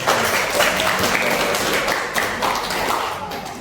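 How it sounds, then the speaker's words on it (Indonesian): Classroom students applaud a classmate during a guidance counselling lesson, a lively ragged patter of clapping with some taps and thumps, close by, with faint voices mixed in. "Terima kasih Mbak Ridatul, beri tepuk tangan kita"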